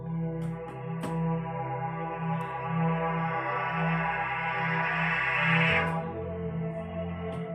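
Analog Monster synthesizer pattern plays a pulsing low bass figure on C2 and E3, shifting to F2 and A3 near the end, with a sustained buzzy tone swelling and fading over a steady electronic texture.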